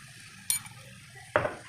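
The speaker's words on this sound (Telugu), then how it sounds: "బాగా ఒకసారి కలుపుకోవాలి" A spoon stirs gongura chicken curry in a pan just after turmeric goes in, giving two short, sharp scraping clinks about a second apart over a faint background sizzle.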